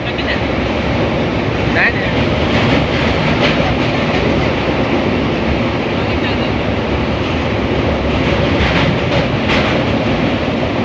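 A train rumbles steadily along the tracks, with a continuous roar and faint rhythmic clatter of wheels, loud and close throughout.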